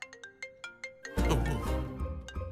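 A mobile phone ringtone in a Telugu film comedy scene plays a quick series of bright, repeated electronic beeps, then gives way to a louder burst of music and noise.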